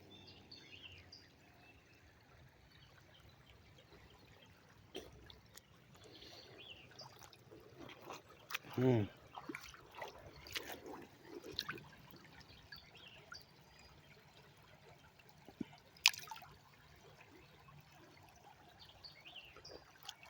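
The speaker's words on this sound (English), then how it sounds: "I love the sound of that water." Water trickles and flows steadily outdoors on a spring day, a faint continuous babble with a few soft knocks and rustles, no one speaking.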